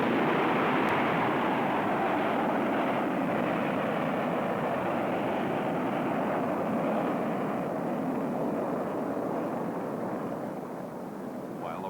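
A rocket-boosted F-100 Super Sabre fighter launching from a Hardsite shelter gives off a loud, sustained broadband roar that holds steady for the whole stretch and eases slightly near the end.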